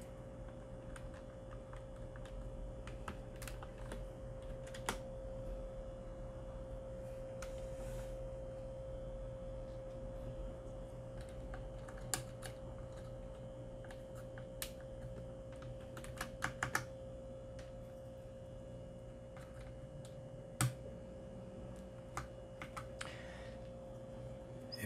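Keycaps are being swapped on a mechanical keyboard, giving scattered plastic clicks and sharper snaps at irregular intervals over a steady low electrical hum, with no speech.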